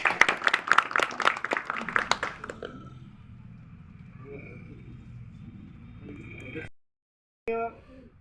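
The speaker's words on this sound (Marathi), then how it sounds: "सर्वांनी त्यांच्यासुद्धा टाळ्या वाजवून त्यांचं स्वागत करावं अशी विनंती करतो" Audience claps to welcome a guest at a village felicitation function, a loud burst of many hands for about two and a half seconds, then quieter room noise and a brief voice.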